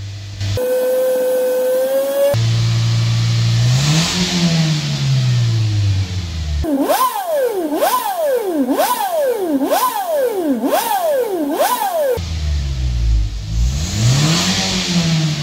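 A Toyota Kijang Innova engine revs up and down repeatedly, loud and close, its pitch rising and falling in rapid sweeps with brief idling between bursts.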